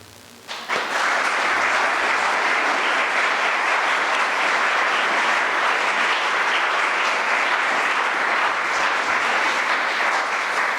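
A lecture audience breaks into sustained applause for a history author. After a brief quiet moment the clapping starts abruptly and stays dense and steady for about ten seconds, filling the room with no talk over it.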